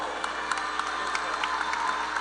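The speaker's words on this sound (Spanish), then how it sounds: "le damos un aplauso por favor" An audience at a priests' panel applauds steadily, a dense wash of many hands clapping with a few louder individual claps, sustained evenly and moderately loud.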